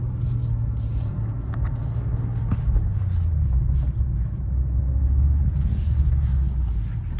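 Inside a moving 2024 BMW M2 with a manual gearbox on new max performance tires, a steady low engine and road rumble holds throughout, with the engine note shifting slightly partway through.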